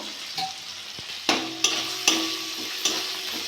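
Ginger paste sizzling in a pan alongside fried prawns, a steady hiss broken by several sharp clanks and scrapes of a spatula being stirred through, close and fairly loud.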